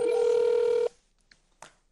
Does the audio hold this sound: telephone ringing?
yes